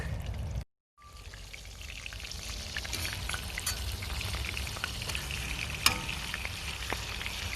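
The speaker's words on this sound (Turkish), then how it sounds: "Hafif dövülmüş et olduğu için kısa sürede zaten pişiyor" Lightly pounded meat sears in a pan on a camp stove, giving a steady close sizzle and crackle with scattered sharp pops after a brief silent gap near the start.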